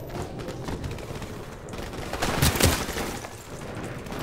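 Rapid full-auto M16 fire in the video game Modern Warfare Remastered, a dense burst of shots swelling in the middle of the clip over a busy game background, with no talking.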